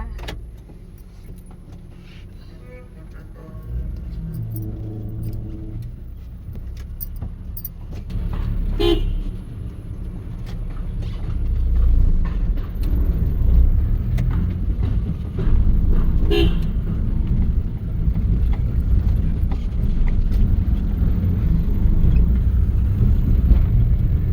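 Village vehicles pass beneath a bridge with a low rumbling engine drone that swells as they approach, punctuated by a few short horn toots.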